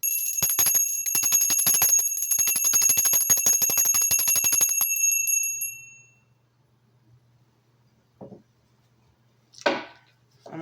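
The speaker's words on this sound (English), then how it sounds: "And I will definitely be ringing the bell in 3, 2," A bright bell is struck repeatedly in a fast ringing run for several seconds, then fades to near silence, followed by a couple of faint clicks and rustles.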